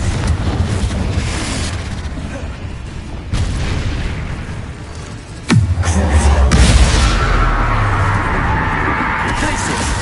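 Confringo blasting spell in Hogwarts Legacy, going off as a sudden loud boom midway with a falling whoosh, then a rumbling roar over steady game ambience and faint voices.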